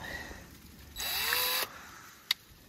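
A power drill bores a tap hole into a maple tree, giving a brief whirring burst of under a second between quiet stretches, followed later by a single sharp click.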